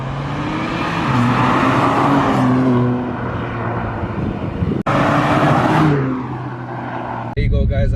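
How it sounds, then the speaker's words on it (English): BMW M4 Competition driving past outside, twice swelling from a distant engine drone to a loud close roar and fading, with a sharp cut between passes and the second pass trailing off. "just wanted you guys to feel how the car sounds as it's driving by"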